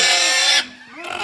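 A pig squeals loudly and shrilly at a village puja ritual, a harsh sustained scream that breaks off briefly and then resumes, close and piercing, with people talking nearby.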